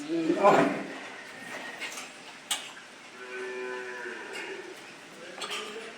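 A cow at an agro farm lows loudly while jumping about, a deep moo near the start followed by thumps, rattles and a person talking.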